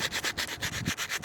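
Sandpaper is rubbed back and forth over rusted chromed steel brake caliper clamps from a Lexmoto Venom motorcycle, making quick, even, rhythmic scratchy strokes, about eight in quick succession, close and fairly quiet.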